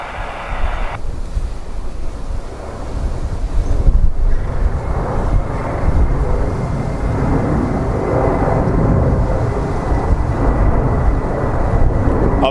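A Ryanair airliner arriving from Alicante at Dublin Airport gives a loud, continuous broadband jet roar that builds and holds, mixed with wind buffeting on the microphone.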